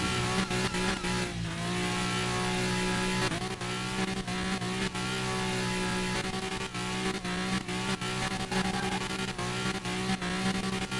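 BMW M3 accelerating at high speed in Car Mechanic Simulator 2021, a sustained loud engine whine with rising harmonics, gear-change dips and brief tire squeals.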